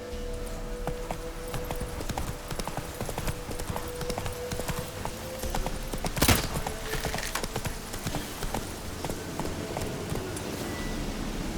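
Roach the horse trots steadily through The Witcher 3, hooves clip-clopping in a continuous rhythm over ambient game sound, with one brief louder burst midway.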